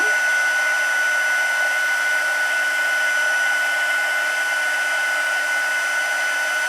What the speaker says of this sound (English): I'm just going to heat this up, although the cable won't reach any further